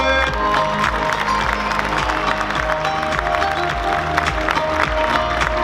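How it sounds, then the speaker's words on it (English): A cosplay contest crowd at DreamHack Mannheim applauds a Lombax cosplayer, a steady, dense wash of clapping with some cheering that holds loud and even throughout. "Huge round of applause for Lombax cosplay"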